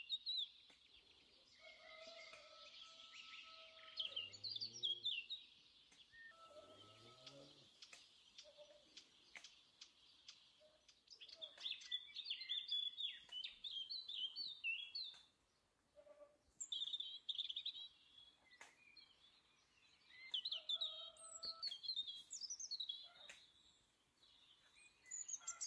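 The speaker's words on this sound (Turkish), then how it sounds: "Kuş seslerinin arasında" Birds sing and chirp in a plum orchard, bright trills and repeated calls coming in bursts with quiet gaps, fairly faint, with a few low sounds like a fowl mixed in.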